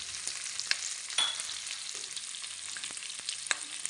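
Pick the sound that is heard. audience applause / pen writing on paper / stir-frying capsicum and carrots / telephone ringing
stir-frying capsicum and carrots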